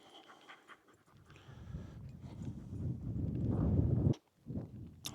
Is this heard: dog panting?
yes